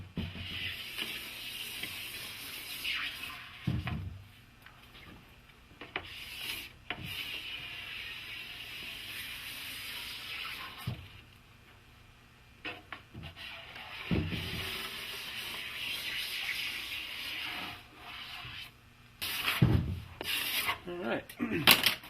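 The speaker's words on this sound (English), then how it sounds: "The one way I like to wax my board is get my thumbs in the middle of my scraper here" Plastic scraper pulled firmly across a waxed snowboard base, repeated close scraping strokes in uneven bursts with brief pauses between passes over about twenty seconds.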